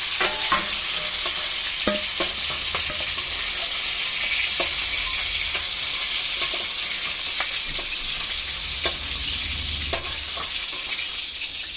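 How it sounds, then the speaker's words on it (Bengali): Chicken pieces fry in hot oil with a dense, steady crackling sizzle, punctuated by occasional scrapes and taps as the pieces are turned. No talking. "এইভাবে আমি প্রত্যেকটা মাংস ভেজে নিয়ে আসছি।"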